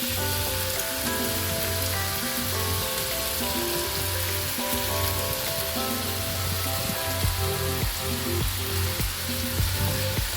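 Squid and cabbage fry loudly in a pan, a dense steady sizzle with crackling spatter running unbroken throughout, no voices over it.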